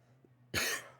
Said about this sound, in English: This cough is starting to bother me.